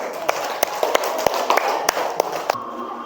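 Students clapping their hands in a classroom concentration game, a string of sharp, separate claps in an uneven rhythm over a murmuring room, some claps sounding stronger than others, the last one followed by a sudden quiet.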